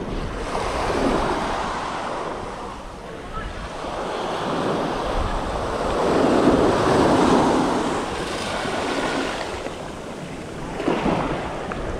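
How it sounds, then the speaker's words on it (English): Ocean waves surge and break along the rocky shore at Laguna Beach, a steady, loud roar of surf rising and falling in repeated swells with no voices. "that's a pretty good wave there"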